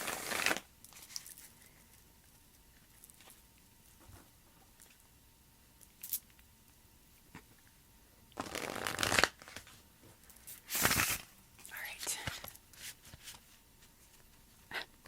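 Tarot cards shuffled by hand in quiet bursts: soft riffling and slapping, with two louder, longer shuffles near the end, heard close and alone.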